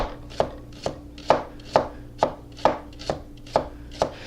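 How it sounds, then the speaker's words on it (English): A knife slices a shallot into thin rings on a cutting board, giving nine evenly spaced, crisp chops close by, with no talking. "let's cut this shallot into some thin little rings here"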